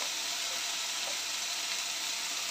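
Chopped tomatoes and chillies sizzle with browned onions in a hot pan for baigan ka bharta, a steady, close, hissing frying sound with no talking.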